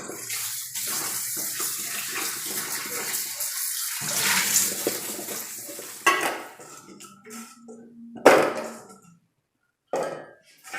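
Running water pours and splashes steadily as taro is rubbed and rinsed under it, then the flow stops and starts with a few clinks.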